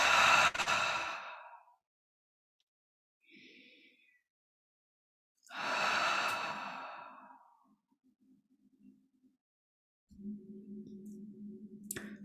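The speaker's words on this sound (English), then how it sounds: "a few breaths, a few deeper in-breaths, breathing on the out-breath" Slow, deep breaths during a live guided meditation session, long audible exhales and inhales separated by silent pauses, close to the microphone, with a low steady hum entering near the end.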